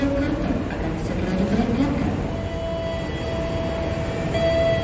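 The Kertanegara passenger train rumbles steadily at a railway station as it prepares to depart, a continuous low mechanical drone with a tonal whine, while a station announcement plays over it.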